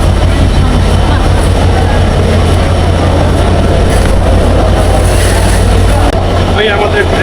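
A passenger train runs on its rails on the Rajshahi to Dhaka line near Kamalapur station, making a loud, steady rumble and rattle that fills the whole stretch with no break.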